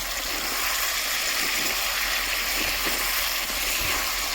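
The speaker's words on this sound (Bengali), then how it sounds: "আমি এখন গরম পানি দেবো।" Hot water poured into a pot of cooked chicken, a steady, close rushing and splashing pour that runs unbroken for several seconds with no talking.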